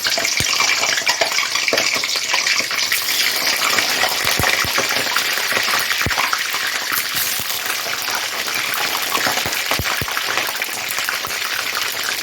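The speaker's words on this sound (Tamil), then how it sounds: "இப்போ எண்ணெய் காஞ்சதுக்கப்புறம் நம்ம கத்திரிக்காய் போட்டு நல்ல எண்ணெயிலேயே ஃப்ரை பண்ணி எடுத்துக்கலாம்" Eggplant pieces frying in hot sesame oil, a steady loud sizzling hiss that runs through the whole clip, with occasional sharp pops and spatters.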